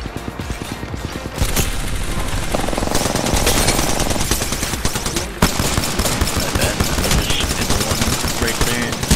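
P2020 pistol firing in Apex Legends, a dense run of sharp, rapid shots with loud cracks, mixed with other gunfire and game effects across the whole stretch.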